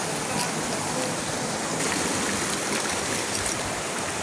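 Stream water rushes steadily at Linaw Pidong Falls, a loud, close, unbroken hiss of flowing water with no other sounds standing out.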